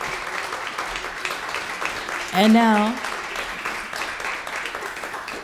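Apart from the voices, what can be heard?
concert audience applause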